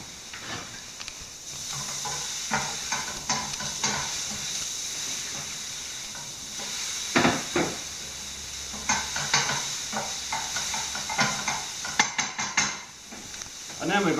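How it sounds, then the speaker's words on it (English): Onion and garlic frying in a little olive oil in a pan, a soft steady sizzle broken by repeated scraping and clinking as a utensil stirs, fairly quiet and close. "First of all, we're going to saute off the onion and garlic into a frying pan"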